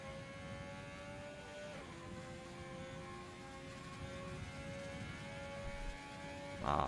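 A Ferrari racing car engine in a racing video game, circuit set in Vietnam, holds a steady high whine with gear-shift pitch drops, continuous and fairly quiet for the whole stretch, with a short louder burst at the end; no talk.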